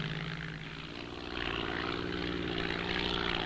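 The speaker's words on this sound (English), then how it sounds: "Planes take off constantly, about 200 flights a day at the height of the caterpillar season." Crop-spraying aircraft taking off at a Jari plantation in the Amazon rainforest: a steady propeller engine drone that swells slightly louder partway through, continuous and fairly close, with no voices.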